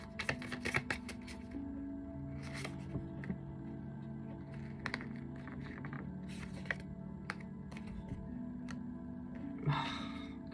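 Tarot cards being shuffled by hand, a steady run of close, crisp riffling and flicking card sounds over a continuous low hum, with a brief rustle near the end.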